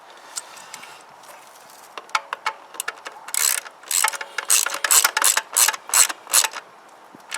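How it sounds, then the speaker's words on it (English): Ordinary hand ratchet nipping up bolts while reassembling a Kymco Agility scooter, rapid bursts of sharp clicking pawl ticks, faint at first, then loud repeated strokes close up. "with the ordinary ratchet"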